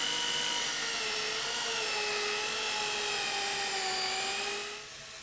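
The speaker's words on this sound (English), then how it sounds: "Now what we can also use is an angle drill like so to sand." An angle drill sands a resin and timber offcuts bowl spinning on a lathe, a loud continuous high whine with a steady grinding rasp that holds level, then eases off near the end.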